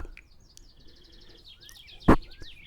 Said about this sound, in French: tous les jours, on entend les oiseaux